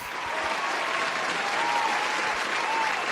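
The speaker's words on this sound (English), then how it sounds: "Come on, DJ. Bring in those claps." A recorded applause sound effect played by a DJ at a birthday event, a steady wash of crowd clapping and cheering that fills the whole stretch at even loudness.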